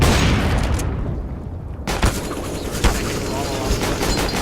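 Gunfire in a CS:GO match at a pro tournament grand final, with sharp shots cracking over dense game noise and a crowd-like roar, and a caster talking over it throughout.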